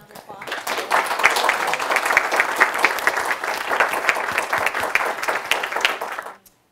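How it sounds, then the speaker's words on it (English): Audience clapping after a senior symposium presentation: a dense, steady burst of applause that starts abruptly, holds at full strength for several seconds, then stops sharply. "We give Kyle a round of applause."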